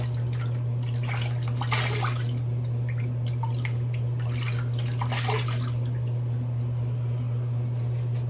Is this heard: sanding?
no